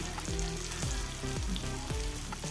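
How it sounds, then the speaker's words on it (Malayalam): Sardines frying in a pan, a steady loud sizzle of hot oil running throughout with several soft knocks or scrapes recurring at a regular pace, no voices. "മീനെല്ലാം ഒരു ഭാഗം ഫ്രൈ ആയി വന്നിട്ടുണ്ട്"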